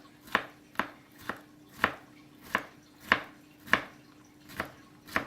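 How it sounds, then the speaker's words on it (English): A MoiChef professional chef's knife slices and dices jalapenos on a cutting board, making crisp, evenly spaced chops about two per second, close and clear with no voices. "I can do some quick slicing and dicing here."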